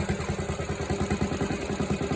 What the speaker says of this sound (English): This is a good engine.